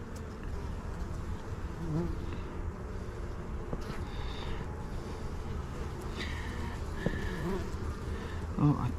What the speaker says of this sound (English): These are going to be drone bees right here.